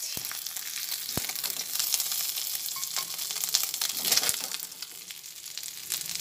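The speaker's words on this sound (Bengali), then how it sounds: "মাছ কিছুটা ভেজে নিলাম, ভেজে নিয়ে মাছগুলোকে এবারে তুলে নিচ্ছি।" Small mourala fish fry in hot oil in a wok, giving a steady, close crackling sizzle with occasional sharp pops and no talking.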